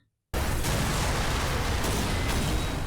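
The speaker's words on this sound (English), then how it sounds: "Just a little explosion." An explosion in an episode of The Legend of Korra starts abruptly after a brief silence, a loud, dense roaring blast with low rumble that sustains steadily, with a few faint cracks layered on top.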